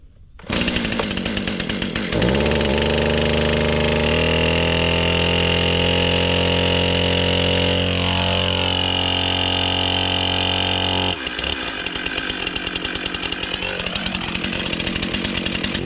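A STIHL chainsaw fires up and runs with the bar locked down, a loud close engine roar that drones steadily, shifts pitch partway through, then settles into a rougher idle for the remaining seconds.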